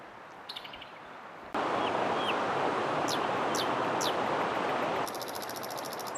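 A preserved river flows through the village of Karangampar, its broad, steady rushing growing louder after a quiet start, while chirping birds and crickets call over the top and no one speaks.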